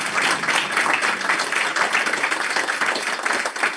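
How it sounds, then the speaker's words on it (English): A conference audience applauds panelists after a session on water data and decision-making, a sustained crowd clapping that stays steady and fairly loud from start to finish with no talk over it. "Let's give them a round of applause."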